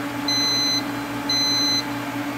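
A welding water cooler's safety alarm sounds two loud, high-pitched electronic beeps of about half a second each, spaced a second apart, over a steady hum in a welding shop.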